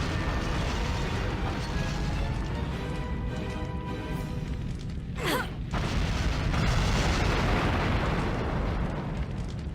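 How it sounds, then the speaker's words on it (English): Explosions in the video game Onimusha: a dense, sustained roar of booming blasts fills the whole span, with a sweeping whoosh near the middle and steady loud rumble throughout, no talk. "But things are already starting to explode."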